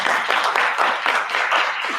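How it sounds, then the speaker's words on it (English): A short stretch of applause, many hands clapping together in a dense, steady patter with no voices. "let's give that a round of applause"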